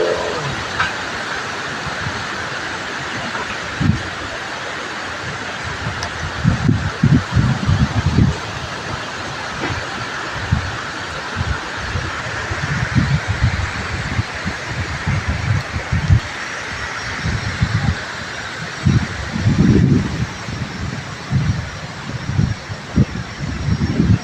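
Strong wind gusts through the grounds of a temple in Lampang, a broad, steady roar with rumbling low surges that rise and fall over the whole stretch, with no voices present.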